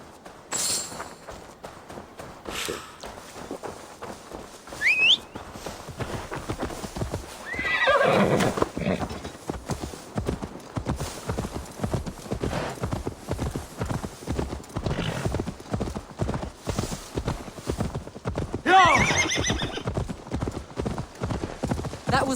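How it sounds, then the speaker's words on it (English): Assassin's Creed Valhalla gameplay: steady clip-clop of galloping hooves runs throughout, with a couple of loud horse neighs and whinnies breaking through, game-style effects layered over. "Now to deliver Magni his horse."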